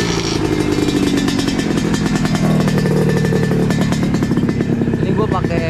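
A rare two-stroke motorcycle with a low, Ninja-like frame runs loud and close, its engine rattling and buzzing continuously with a busy, uneven beat while a person talks.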